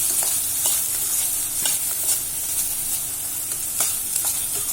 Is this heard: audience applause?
no